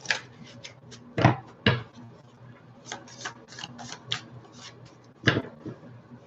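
Tarot cards shuffled by hand, giving a run of soft papery riffles and taps with a few sharper slaps between them, close and fairly quiet with no talking.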